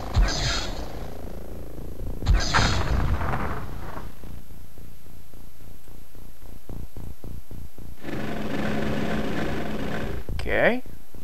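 Soldier firing a weapon in the turn-based strategy game X-Com, a rapid run of evenly spaced gunshot bursts over a low electronic hum, followed by a louder noisy blast, with someone talking at the start.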